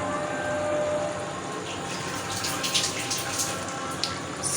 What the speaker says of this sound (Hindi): चावलों का पानी रिमूव कर दिया।